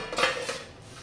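A metal lid goes down on a pot of cooked samosa vegetable filling, a short close clatter and clink that rings briefly and fades.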